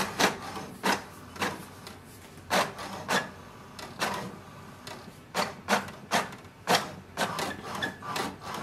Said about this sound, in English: click on the print icon and wait for the printer to finish the job